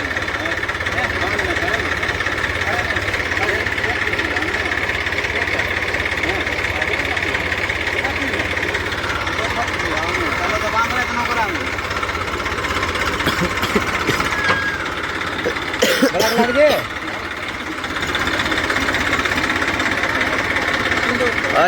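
An Eicher 380 tractor engine runs loud and steady while pulling out a stuck tractor, with a continuous throbbing drone and a short clattering burst near the end. Voices can be heard faintly in the background.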